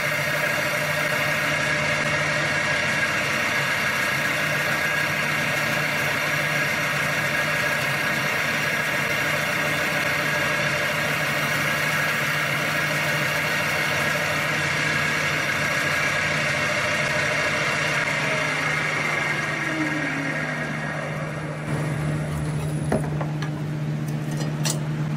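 A woodturning lathe spins at about 2,000 RPM while a turned wooden box piece is burnished, giving a steady loud motor hum with a constant drone, slowing and winding down near the end.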